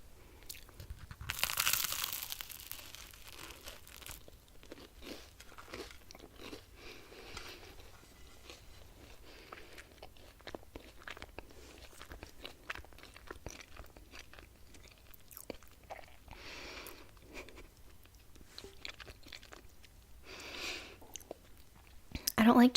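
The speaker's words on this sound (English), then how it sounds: "the peanut butter, and the toast itself, because it's crunchy, would make good eating sounds" Close, crisp crunching and chewing of toast with peanut butter recurs over a quiet background, with occasional louder bites.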